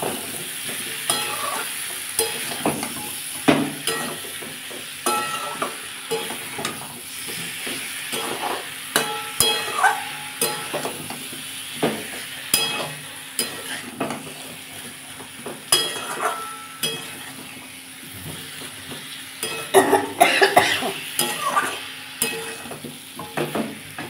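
Spinach with prawns stir-fries in a pan, with continuous sizzling and frying under repeated scraping and clinking of a spatula against the pan, close and busy throughout.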